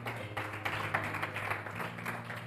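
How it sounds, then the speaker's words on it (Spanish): A church congregation applauds, soft scattered clapping with distinct individual hand claps over a low steady hum, fairly quiet and somewhat distant. "¿Cuántos dan un fuerte aplauso a esa palabra fiel y digna"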